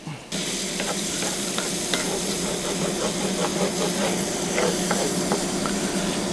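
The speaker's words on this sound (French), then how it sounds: "pendant que ma chair à saucisse cuit" Sausage meat frying loudly in a pan, a steady close-up sizzle and hiss with crackling pops, continuous and without speech.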